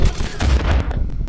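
Grenade explosions in the video game Far Cry 5, a rapid cluster of loud booming blasts packed tightly together over a moment of sustained low rumble.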